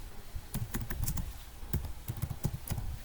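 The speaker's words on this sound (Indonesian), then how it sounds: "Kita bisa mengetikkan perintah IP address print." Brief typing on a computer keyboard, a handful of distinct key taps with a small gap in the middle, over a steady background hum, while a MikroTik router command is entered.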